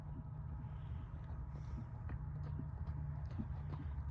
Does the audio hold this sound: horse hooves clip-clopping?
yes